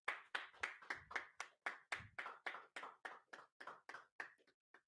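Congregants at a Sabbath church service clap hands in a steady, evenly spaced rhythm of about a dozen close, crisp claps, a few people together, fading slightly toward the end.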